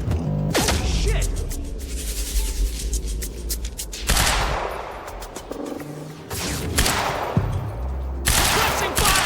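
Gunfire in the Quantum Break video game, with bursts of rapid automatic shots and heavy blasts in several loud volleys separated by brief lulls.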